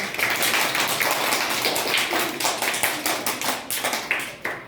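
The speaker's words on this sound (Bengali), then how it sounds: "এদের জন্য হাততালি হয়ে যাক।" Audience clapping at a prize ceremony, loud dense applause from many hands filling the space, then thinning into scattered individual claps toward the end.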